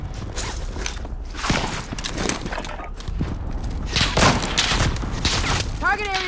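Bursts of rapid gunfire crackle through a video game firefight, steady and fairly loud throughout, with a few sharper shots standing out near the middle and an electronic chirp at the end.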